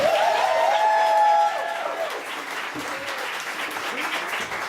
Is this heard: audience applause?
yes